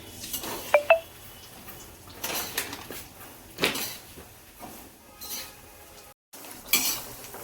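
Makhana (fox nuts) roast in a pan as a spoon scrapes and stirs them, giving soft rustling shuffles punctuated by a few sharp metallic clinks, close and fairly quiet.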